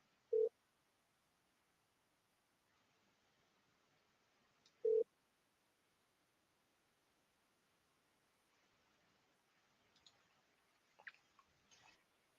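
A phone line gives two short, quiet tones about four seconds apart during an outgoing call to a property lead, followed by a few faint clicks.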